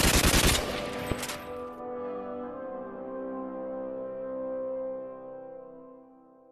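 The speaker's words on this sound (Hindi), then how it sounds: "चलो सब हवाई फायरिंग करो। करते रहो, फायरिंग करते रहो।" Celebratory aerial gunfire by soldiers: a rapid burst of loud, close shots fired in quick succession, followed by a long ringing echo that slowly fades.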